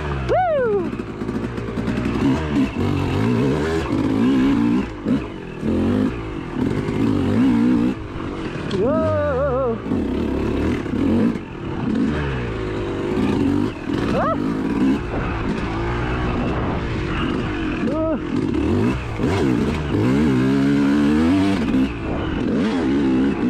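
A dirt bike revs and roars around a rough harescramble practice track, engine pitch rising and falling repeatedly as the rider accelerates and brakes, loud and near, with voices talking over it.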